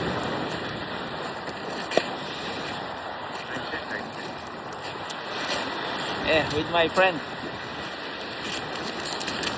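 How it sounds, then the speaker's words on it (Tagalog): Broadband wash of rough sea and strong surf rolling steadily throughout during a fishing trip, with voices talking over the water noise. "Wala kaming nakuha. Kasi malakas ang alon."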